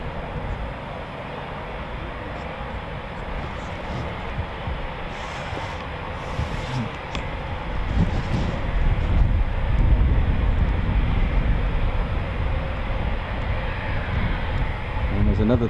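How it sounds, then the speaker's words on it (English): Eurofighter Typhoon FGR4 jet taxiing at RAF Coningsby, a steady distant engine roar and whine that grows slightly louder toward the middle and holds, with no clear talk over it. "I think I've got another Typhoon taxiing"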